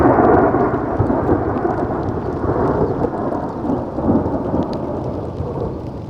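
A thunderstorm in the country of Georgia, with heavy pouring rain and deep rolling thunder rumbling continuously and loudly throughout, with no voices.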